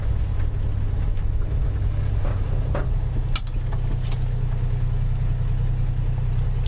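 A Plymouth Valiant engine drops into low gear on its own. A low, constant mechanical rumble runs throughout, with faint knocks and clicks over the drone.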